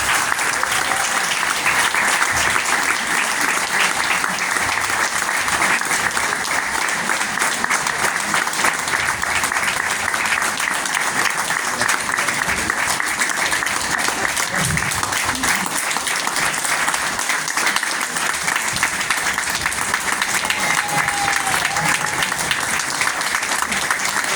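Audience applause for Haverhill mayor Jim Fiorentini, a dense, steady wash of clapping from a large crowd that holds at full strength for the whole stretch.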